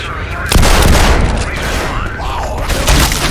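Gunfire from Counter-Strike on the cs_office map, aimed at a zombie: loud bursts of shots, a heavy volley near the start and another toward the end, over a dense, noisy game background.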